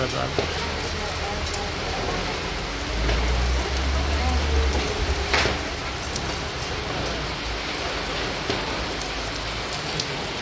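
Steady rain falls and patters on surfaces for the whole stretch, with occasional louder drops and a low rumble partway through.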